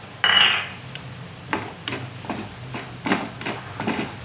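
Spoon working a panjari and ghee mixture in a pan, a bright metallic scrape at the start followed by several lighter clinks and scrapes at irregular intervals, close up.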